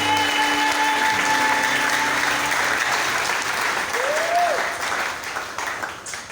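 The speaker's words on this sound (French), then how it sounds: "Est-ce qu'on peut acclamer le Seigneur Jésus-Christ?" A church congregation applauds and cheers the Lord Jesus Christ, steady dense clapping that fills the space for several seconds, a few voices calling out over it before it thins slightly toward the end.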